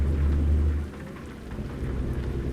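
Rain falling with deep rumbling thunder in American Truck Simulator, a low thunder roll fading out early while steady rain hiss continues, no voices.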